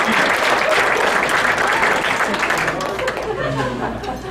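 A banquet audience claps loudly together, a thick wash of applause that holds strong for several seconds, then thins and fades with some chatter and a chuckle mixed in underneath.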